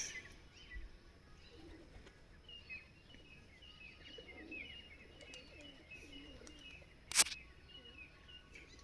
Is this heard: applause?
no